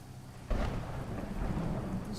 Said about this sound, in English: It's quite a thunderstorm.